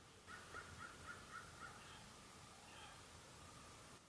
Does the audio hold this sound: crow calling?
yes